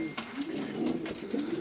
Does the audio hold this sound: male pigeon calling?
yes